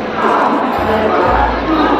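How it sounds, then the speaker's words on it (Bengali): A large, loud crowd fills Haridwar railway station, a dense babble of many voices and movement close by, with a low rumble rising partway through. "হরিদ্বার স্টেশনের ভিড়টা দেখো"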